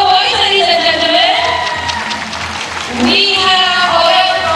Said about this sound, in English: Give her a applause for the boys, ladies and gentlemen.